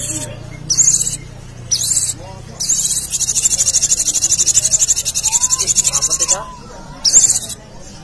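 A sogon songbird singing as a lure amid a bird contest, bright high chirping bursts in short phrases and one long rapid trill, with murmuring voices and chatter underneath.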